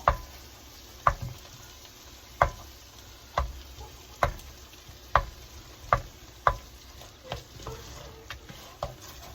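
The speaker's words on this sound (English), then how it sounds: "start melting our butter" Butter melting in a pan for crawfish étouffée gives a quiet, steady sizzle, broken by a regular series of sharp taps and scrapes of a utensil against the pan, roughly one per second.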